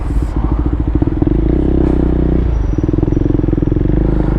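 Classic Honda CB750 Four F1 with carburettors, its engine running loud and close in a steady, throbbing idle with rhythmic pulsing and a faint voice briefly at the start.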